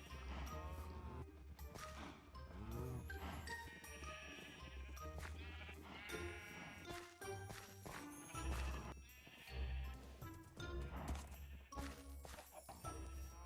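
Sheep bleating in Minecraft, heard as repeated bleats over busy game music and sound effects, with the bleats loud and mixed into a dense backdrop throughout.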